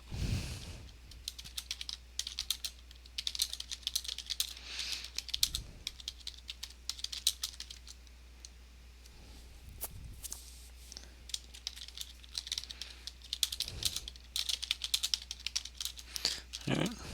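Computer keyboard typing runs almost throughout in quick, uneven bursts of clicks with brief pauses, fairly close and moderate in level over a steady low hum, with no speech over it.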